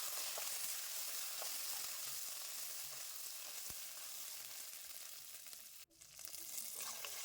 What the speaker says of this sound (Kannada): ಇವನ್ನ ಫ್ರೈ ಮಾಡ್ಕೊಳ್ಳೋಣ